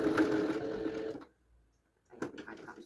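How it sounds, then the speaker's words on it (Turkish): A Singer domestic sewing machine stitching baby or child pajama trousers runs in a steady close whir, stops briefly, then starts again in a shorter burst. "Bir iki yerinden dikiş atabilirsiniz."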